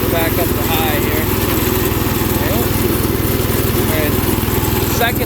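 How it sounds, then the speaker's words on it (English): A 1970s International Cub Cadet 127 riding lawn tractor engine runs at full throttle, a steady, loud, close mechanical drone with constant low rumble that holds evenly throughout, with no talking. "Not a lot of lawn tractors today go that slow at full throttle."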